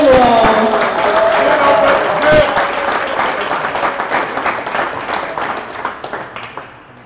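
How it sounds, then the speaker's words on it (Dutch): A crowd at an acrobatic gymnastics performance applauds loudly, the clapping thinning and fading out over several seconds while a voice speaks briefly at the start. "Geef een heel groot applaus voor Inge, Marieke en Robin van Acrogym Acad"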